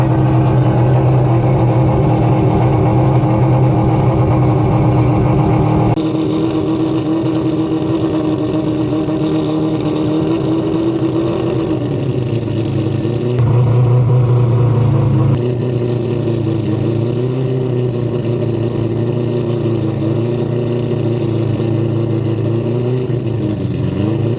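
A turbocharged four-rotor rotary engine drives an all-wheel-drive car, roaring loudly and steadily for the whole stretch with a buzzy drone whose pitch wavers and climbs as revs shift, and no voices.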